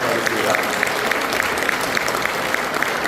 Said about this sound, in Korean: 인사할 때 여러분 큰 박수로 정리해 감사하겠습니다